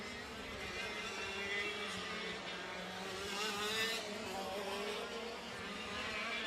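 Racing kart engines buzz around a track during national sprint championship qualifying. The high-pitched whine is steady and moderately distant, rising and falling gently as karts pass, with no one speaking.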